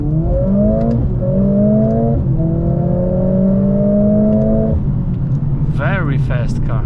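A Mercedes-Benz CLA45S AMG with ESP off in drift mode, its engine droning loudly at a steady pitch with brief rev shifts, ending in a rising, warbling whine.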